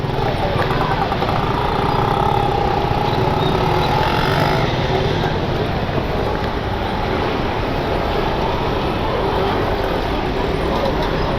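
Dense city traffic while riding a motorbike through Bangalore, a steady wash of engines and road noise with no break, heard close and continuous, with a voice talking over it.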